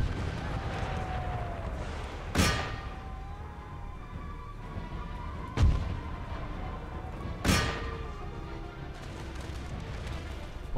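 Three sharp musket volleys fired by line infantry in Empire Total War, booming cracks spaced a few seconds apart over a steady low battlefield rumble.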